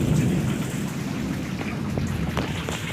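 Heavy rain pours down steadily during a thunderstorm in Keonjhar, a dense close hiss of drops with low rumbling thunder underneath, loud and continuous with no voices.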